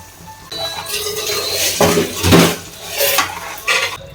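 Tamarind water going into a boiling pot of mutton kola urundai curry, with clinks of a spoon against a metal pot and a soft pour and stirring, several short metallic taps spread over a few seconds, close and fairly loud.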